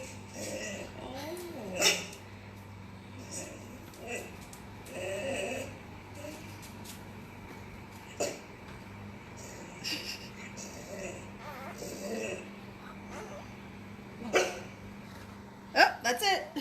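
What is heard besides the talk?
Basenji dog vocalizing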